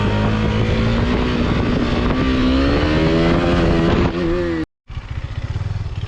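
Motorcycle engine revving hard and loud during a wheelie attempt, the pitch rising steadily over several seconds, then a brief cut-out before it picks up again with choppy, pulsing idle.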